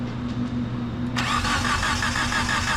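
A GSX car's engine cranks briefly with its battery freshly charged after a blown head gasket, then catches and settles into a loud, steady idle. The sound is close and there is no talking.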